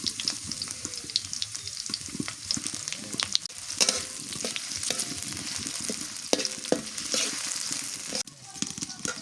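Chopped onion, bay leaf and garam masala sizzle in hot oil as khichuri is started in a home kitchen, a steady close crackle with occasional stirring scrapes and clinks throughout; no voices.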